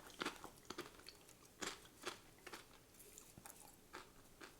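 Crisp tortilla chips from Chili's, dipped in salsa, bitten and chewed up close: sharp crunches at irregular intervals, followed by softer crackling chews, quiet and with no talk.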